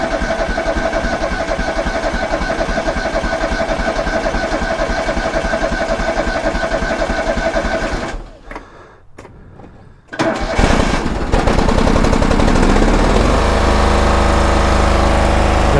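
A riding lawn mower engine drones loudly nearby, cuts out briefly, then cranks and catches again, settling into a rough, steady running roar.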